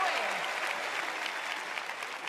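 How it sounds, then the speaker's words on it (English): Studio audience at a TV talent show applauding a judge invited onstage for a magic act, a steady dense wash of clapping that holds at even loudness throughout. "a wonderful round of applause."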